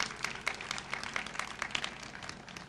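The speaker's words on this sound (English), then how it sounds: "If we can give her a round of applause." An audience claps for a round of applause at a school-board community event for a mobile dental care program, a steady patter of many hands sounding moderately loud with no talking.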